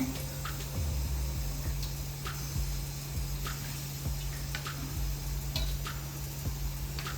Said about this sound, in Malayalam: ഈ ചൂടായ പാത്രത്തിലോട്ട് കുറച്ച് ഓയിൽ ഒഴിച്ചു കൊടുക്കാം.